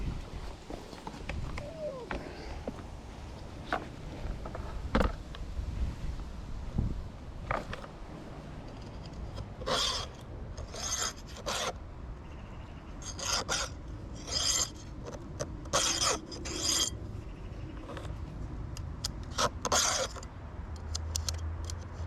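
A hand file rasps across chainsaw chain teeth during firewood cutting, with repeated short bright strokes in quick groups over a steady low outdoor rumble, fairly close.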